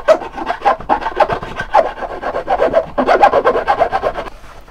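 A hand file rasps rapidly across the backs of metal rivets set in a leather sword scabbard, a close, steady run of short scraping strokes with a brief pause near the end.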